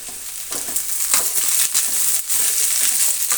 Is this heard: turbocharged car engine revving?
no